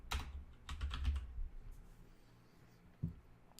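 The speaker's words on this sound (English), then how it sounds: "So I'll just type in Divi theme" Typing on a computer keyboard: a few quick clusters of close key taps, with a short pause before a final pair of keystrokes, and no voice.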